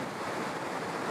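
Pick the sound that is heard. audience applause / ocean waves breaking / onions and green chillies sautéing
ocean waves breaking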